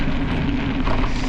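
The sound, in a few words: light rain drizzle outdoors on a gravel road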